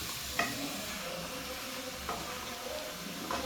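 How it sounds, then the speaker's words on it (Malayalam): Yogurt-marinated chicken for chicken chukka sizzles steadily in a pan, with three distinct scraping stirs breaking through the close, continuous frying hiss and no talking. "നല്ല അടിപൊളി നമ്മൾ ഇളക്കിക്കൊണ്ടിരിക്കുകയാണ്"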